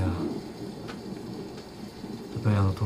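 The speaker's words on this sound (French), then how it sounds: "Et la pluie reprend." Steady rain patters over a low rumble of thunder, with a heavier thunder swell near the end, an ambient storm backdrop for a French tabletop role-playing liveplay session, heard close and continuous.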